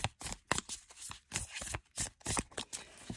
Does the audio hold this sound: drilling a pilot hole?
no